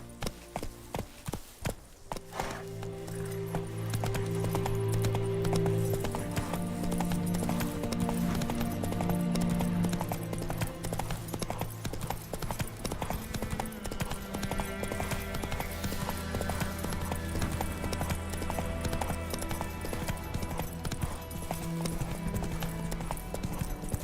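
Roach's hooves in The Witcher 3 video game pound in a fast, continuous gallop that stays loud and close for the whole stretch, under a sustained orchestral score.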